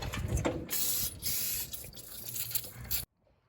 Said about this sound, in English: We'll spritz this with some penetrant here.